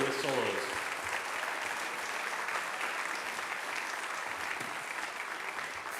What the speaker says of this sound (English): One more round of applause, please, for Ruben Dries, Felicia Timish, Brooklyn M